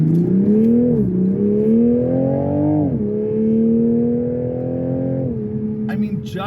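A 2024 Toyota GR Supra 3.0 Premium engine drones loudly from inside the car while driving, its pitch rising steadily through long gears with a couple of shifts that drop the tone before it climbs again.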